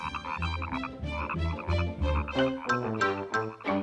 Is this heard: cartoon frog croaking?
yes